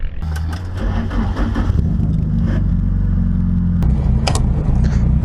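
Adam LZ's Nissan 240SX drift car idles and revs close from inside the cabin, a heavy steady rumble with a few sharp mechanical clicks and blips, no talking.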